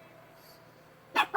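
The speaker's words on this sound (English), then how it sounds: "they're super barky today" Dogs barking, two sharp close barks in quick succession after a near-silent stretch with a faint low hum.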